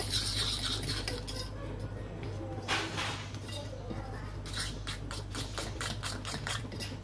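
A fork mixes apple cake batter in a bowl, making quiet, rapid clinking and scraping against the dish in quick bursts, with some speech present.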